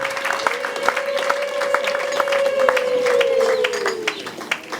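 An audience claps and cheers in steady, dense applause at a live event, with a sustained tone or voice running beneath the crowd noise.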